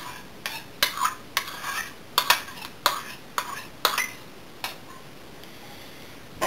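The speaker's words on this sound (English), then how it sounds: "here I have 50 grams of low-fat natural yogurt, and I'm just going to scoop that into the bowl." Low-fat natural yogurt scooped into a bowl: a series of sharp, close spoon clinks and taps against the bowl, irregular and fairly quiet, with no talk.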